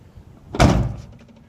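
A Mazda Miata (MX-5 NA/NB) door swings shut in one solid, close-up thud with a brief rattle after, during a window bushing and adjustment job, with no talk.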